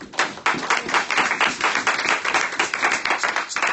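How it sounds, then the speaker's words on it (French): Church congregation clapping together, a dense run of sharp claps that forms steady rhythmic pulses, close and fairly loud, with no talking over it. "On acclame Jésus."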